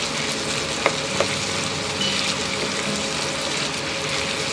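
Sausage frying in a pan gives off a continuous close sizzle and crackle, with a couple of sharp pops and faint utensil clicks.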